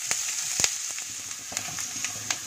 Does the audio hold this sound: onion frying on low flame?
yes